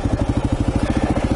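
A motorcycle engine braking in first gear on a steep downhill dirt road, a steady low rhythmic chugging pulse that is close and loud throughout.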